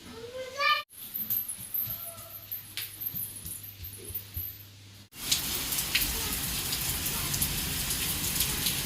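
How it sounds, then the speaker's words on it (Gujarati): Heavy monsoon rain pours down in a steady, dense roar on outdoor surfaces for the last few seconds, after a quieter indoor stretch with a voice and household sounds. "ધોધમાર વરસાદ આવી ગયો."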